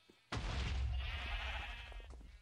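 Minecraft sheep bleating after a TNT blast, a sudden loud burst followed by a dense blended wash of many sheep bleats fading slowly over a couple of seconds.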